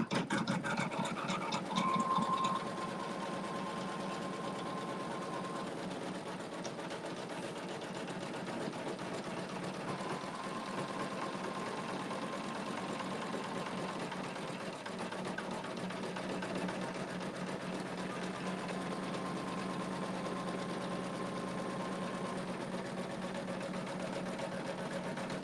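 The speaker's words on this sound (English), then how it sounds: "the machine will sew a zigzag to keep that attached" A sewing machine runs steadily for the whole stretch, stitching a zigzag to attach wool appliqué onto fabric, with a continuous close mechanical hum and a rapid needle rhythm and no talking.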